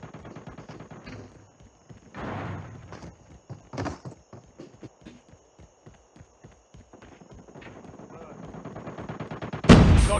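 Video game gunfire: a rapid train of sharp gunshots rattles through the scene at moderate level, punctuated by a couple of heavier bursts and ending in a loud, close blast.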